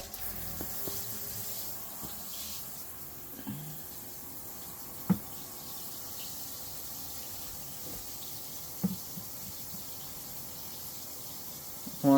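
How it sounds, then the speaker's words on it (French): Water rushing steadily through a shower head, a constant hiss with a few faint knocks and clicks. "on va allumer l'eau"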